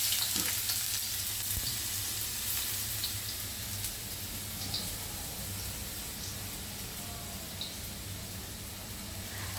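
Ginger sizzling and frying in a pan, a soft, steady crackle with scattered small pops, faint and continuous with no talk.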